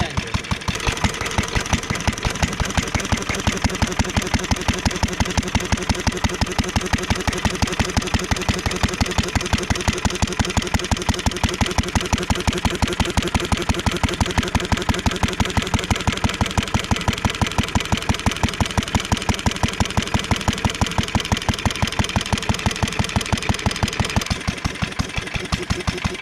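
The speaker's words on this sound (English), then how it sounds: "I can change the speed of the engine from this lever here." A 1947 International Harvester Model LB stationary engine runs steadily with a throttle governor, its regular rapid firing pulses thumping evenly and loud for the full stretch without pause.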